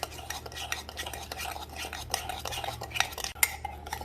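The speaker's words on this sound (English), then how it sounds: "It's not easy to make coffee very yet because it's very hard to mix." Coffee mixture being stirred in a cup with a spoon, giving soft repeated scraping and light clinks of cutlery against the vessel, fairly close and quiet, with no talking.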